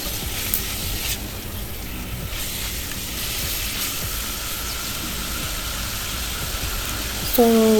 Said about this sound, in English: So I added it into my pot and started to sear it on both sides.